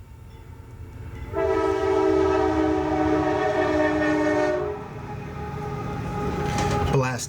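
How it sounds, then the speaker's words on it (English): A train passes close by with a long, loud horn blast sounding over steady rumbling rail noise, then screeching wheels rise near the end. "Blasted train."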